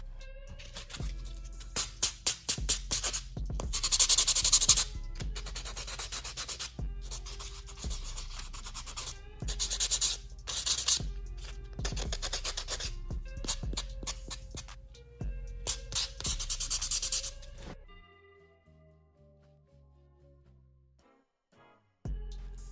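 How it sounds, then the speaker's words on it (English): Buffing acrylic nails and the cuticle area with a nail buffer gives bursts of close, rhythmic rubbing and scratching with short pauses, then quiet soft taps near the end. "buff everything out to get rid of, just to make sure I have a smooth surface"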